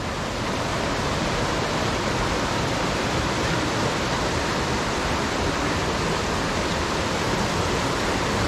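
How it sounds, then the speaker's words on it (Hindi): The Ganges river at Rishikesh rushes past close by, a steady, dense roar of flowing water with no break or change in level, loud and continuous with no voices. "ये गंगा बह रही है"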